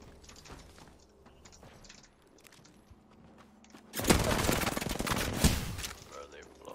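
Rapid automatic gunfire in the battle royale game Apex Legends: a quieter stretch with a voice talking over light game sounds, then a loud, dense burst of shots lasting a couple of seconds.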